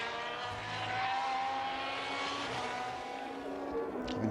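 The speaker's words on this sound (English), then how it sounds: "You can hear the rumble there from the rumble strips on the camera" A WTCC touring race car in 2015 qualifying at Motegi, Japan, drones steadily on an onboard camera as it rides over low, motorcycle-style curb rumble strips, the engine note loud and close throughout.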